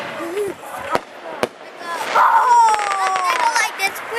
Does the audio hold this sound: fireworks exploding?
yes